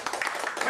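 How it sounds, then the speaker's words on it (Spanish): Church congregation clapping together during a Spanish-language service, brief bright rhythmic applause with voices mixed in. "Dale un aplauso al Señor."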